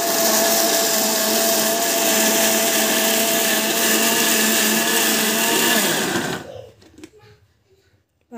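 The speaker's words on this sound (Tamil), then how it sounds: "இதை வந்து மிக்சியில் போட்டுட்டு அரைச்சிக்கணும்" Mixer grinder blending mint chutney into a fine paste, a loud steady whirring motor roar that runs continuously for about six seconds and then winds down and stops, leaving near silence.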